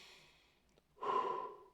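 A quiet exhale trails off, then after a brief pause comes one deep, loud inhaling breath close to the microphone, airy and sustained for about half a second.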